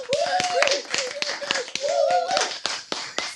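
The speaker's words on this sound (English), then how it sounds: "let's clap for like a couple seconds, and then clap like all around your microphone" Close, sharp hand claps around a microphone, a dozen or so irregular slaps in quick succession, with people talking and exclaiming over them.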